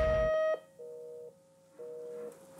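A telephone line plays repeated flat electronic tones after a caller hangs up on a voicemail greeting, three steady beeps with short gaps between them, clear and close with no talk.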